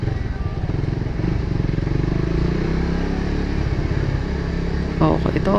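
A motorcycle engine runs loud and close, a steady throbbing drone held at revs with slight rises and a clattery edge near the end.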